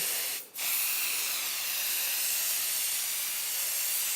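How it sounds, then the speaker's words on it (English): A spray can lets out a steady light hiss of mist for quilt basting, the continuous spray running close and even after a brief dip at the start. "I just start with a light spray"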